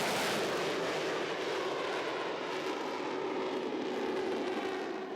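A fixed-wing airplane on takeoff roars with a loud, dense, sustained engine rush that holds steady throughout and eases slightly toward the end, close and dominating without any talk.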